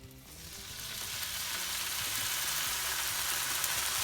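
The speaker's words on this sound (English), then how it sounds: "So first, we're going to grill the bacon." Bacon hits a hot grill for a club sandwich and starts sizzling, rising within the first second into a loud, steady hiss that runs close and constant with no talk.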